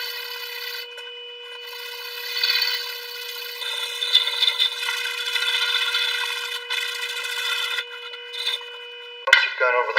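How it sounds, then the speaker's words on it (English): Fine sandpaper rubs over a handmade wooden minnow fishing lure in a steady, continuous close-up scrape with small swells in loudness and a brief sharp knock near the end. "Once you've gone over the whole thing with your fine sandpaper"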